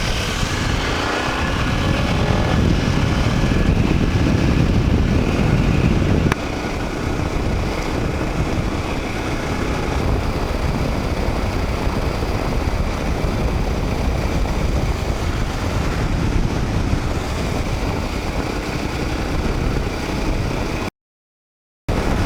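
Motorcycles cruising along the Mitchell Highway in the outback, a constant loud engine drone mixed with heavy wind rush that holds steady throughout, with no voices.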